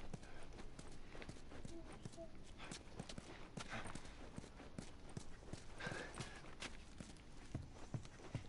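Steady clip-clop of horse hooves at a quick pace in the video game The Last of Us Remastered, layered under constant noisy background activity with faint scattered sounds.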